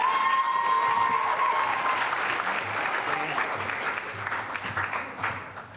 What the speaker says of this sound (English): So please give a round of applause for Kelly.